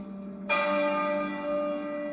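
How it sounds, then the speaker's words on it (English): A single deep tenor church bell tolls and rings on with a long, resonant hum, clear and steady. "The tenor bell tolled every minute for 96 minutes"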